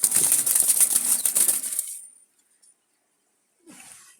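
Wild Jalali pigeons fluttering and flapping their wings in a loud burst of beating and scuffling, then a pause and another brief flurry.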